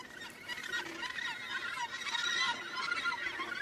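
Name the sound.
gannets calling as they return to the colony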